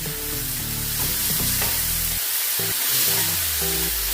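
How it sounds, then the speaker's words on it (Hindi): Spice masala for a green peas curry frying in a pan, a loud continuous hissing sizzle close up, with a faint tonal hum in the background and no talking. "मसाले को अच्छे से भुनेंगे"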